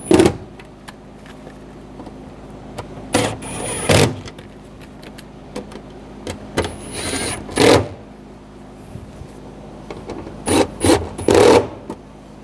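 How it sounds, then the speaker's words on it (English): Nuts being tightened by hand on a fuel transfer unit in a 2007-2013 BMW X5 3.0L straight-six, heard as scattered scraping, rubbing and ratcheting bursts with quiet gaps between them and no talking. "And tighten down the nuts."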